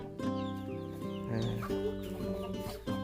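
Chickens cluck in a farmyard where geese and chickens are kept together, a series of close, busy clucks over a steady background with no talk.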